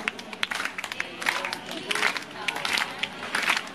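A crowd at a religious recital for the Tara Rani story claps along in rhythm, with dense, steady hand claps and voices mixed into the sound.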